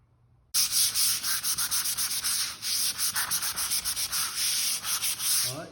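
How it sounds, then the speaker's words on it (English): Sandpaper rubbed by hand over dried drywall joint compound on a replaced bottom seam, a close, steady run of rapid scratchy back-and-forth strokes with brief pauses, no talking. "hit it a couple times with some sandpaper"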